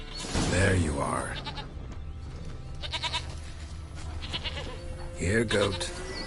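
Goat bleats in The Witcher 3, several short nasal calls in the first second and again near the end, set against steady in-game ambience with a voice speaking over parts of it.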